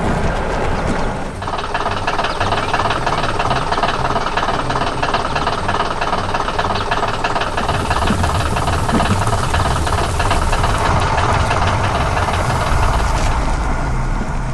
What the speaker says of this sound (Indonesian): Terdengar suara mesin yang bekerja keras keras.